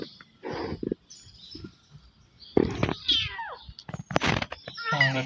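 A kitten newly brought home meows several times in short, fairly close calls, with small rustles and handling noises between the cries.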